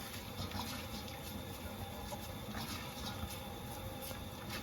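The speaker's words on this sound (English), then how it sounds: "Let's whisk that in." A whisk stirs black pepper into a creamy mac and cheese sauce, making a steady, continuous swishing and scraping close by, with no talking.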